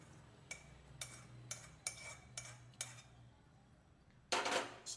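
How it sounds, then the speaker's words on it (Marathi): Ladoo mixture being stirred in a metal pot, with a spoon clinking against the sides in a steady rhythm of about one scrape per half second, then a louder scraping burst near the end, close and fairly quiet with no talk. "परत मिक्स करून घेते"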